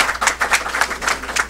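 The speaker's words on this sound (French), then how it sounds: "Je voudrais vous demander de les applaudir encore" Audience applause ringing out close and steady, a dense patter of hand claps with a rhythmic pulse, heard alone without voices.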